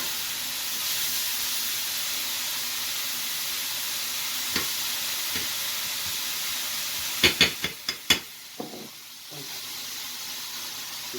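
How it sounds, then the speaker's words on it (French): A hot pan of veal and vegetables deglazed with water, a steady hiss of steam with a cluster of sharp crackles and pops midway before the sizzle settles again. "Et je déglace la garniture aussi à l'eau."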